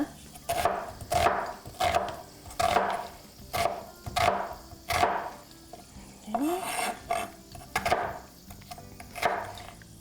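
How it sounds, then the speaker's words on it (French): A knife chops an onion on a cutting board in a home kitchen, giving a steady series of crisp, close knocks at an even rhythm, fairly quiet and with no talk over it. "je vais hacher mon oignon. Hacher mon oignon comme ça."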